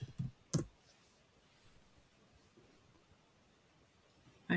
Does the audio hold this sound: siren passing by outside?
no